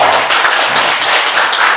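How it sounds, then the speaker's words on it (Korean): A group of people claps hands together, a dense, loud, even burst of applause filling the whole short moment with no talk. "박수 한번 쳐야 돼"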